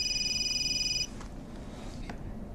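A cell phone rings nearby with a steady electronic trilling tone for about a second, then cuts off, leaving a quiet room with faint background noise.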